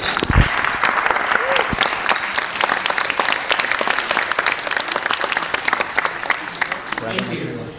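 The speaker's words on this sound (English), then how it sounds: "if I could ask you everybody to join in and clap their hands" An audience at an eServices business awards event claps in sustained, dense applause that thins toward the end, with a voice briefly heard.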